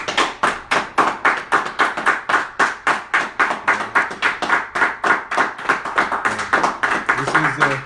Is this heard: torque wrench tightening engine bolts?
no